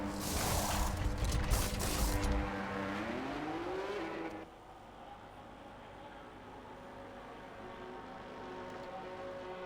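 A racing-game car engine screams at high revs, then drops in pitch as it brakes, down-shifting into the pit lane, settling into a quieter, steady limiter-like drone for the remaining seconds, with no talking heard.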